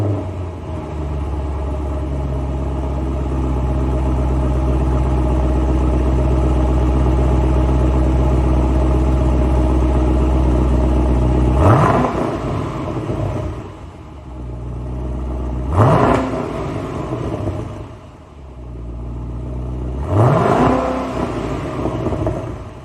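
A stock V8 engine rumbles loudly at idle, then revs sharply three times, each surge rising and falling back to a deep burble.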